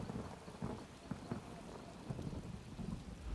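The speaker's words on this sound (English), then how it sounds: "I could do without this damnable rain. It's been storming since we arrived, and it shows no sign of letting up." Steady rain pours through a stormy video game scene, a dense constant hiss with soft low thunder rumbles rolling underneath and no talking.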